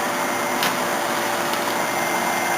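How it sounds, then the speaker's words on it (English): A kitchen fan runs loudly and steadily during cooking, a broad, constant whooshing drone with no breaks and no speech over it. "I'm going to turn that fan off because that noise is probably getting on your nerves"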